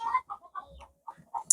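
Chickens cluck close by on a farm, a run of short, choppy clucks with brief pauses and a sharper squawk at the end.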